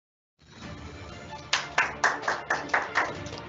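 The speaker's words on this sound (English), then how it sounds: "So let's give them a big applause." Applause for young adult start-up competition participants. A soft, steady crowd murmur is broken by a run of about eight distinct, evenly spaced claps.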